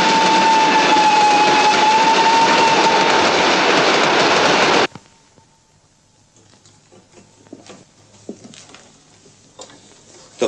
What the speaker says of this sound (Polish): Słyszysz pociąg?